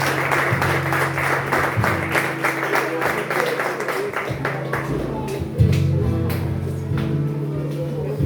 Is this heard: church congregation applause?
yes